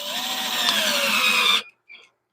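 A drill bit bores into hardwood on a lathe during woodturning, giving a steady loud whirring grind with a falling pitch for about a second and a half, then cutting off abruptly, followed by a brief faint whir.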